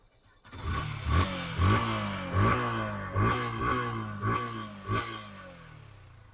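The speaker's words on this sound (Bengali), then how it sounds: "সম্পূর্ণ স্টার্ট অবস্থায় আছে কিন্তু মোটরসাইকেল।" A 2022 Yamaha Fazer V2 FI motorcycle engine idles steadily up close, with a regular pulsing throb and low mechanical clatter, no talking.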